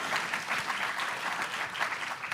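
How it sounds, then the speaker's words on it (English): An audience at an annual council meeting applauds with a steady patter of clapping that holds at an even level throughout, fairly close, with no voices over it. "Yeah, you can clap your hands."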